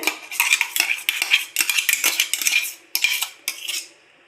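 Spoon clinking and scraping against a vessel while mixing a ground milk mixture for mango kulfi, a rapid series of bright metallic taps and stirs in short bursts, close and fairly loud with no talking.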